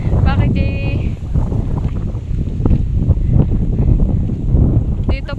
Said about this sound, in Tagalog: Kaya po ganito po malakas ang hangin tapos po madilim ang kalangitan.